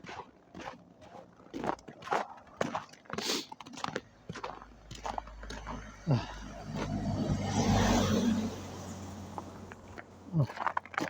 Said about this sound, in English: Big truck coming.